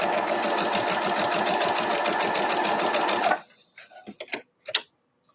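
A sewing machine stitches quilt block pieces in a loud, steady, rapid mechanical whir for about three seconds, then stops, leaving a few soft handling clicks and rustles.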